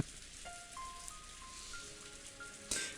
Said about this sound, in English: It is a lot of rain.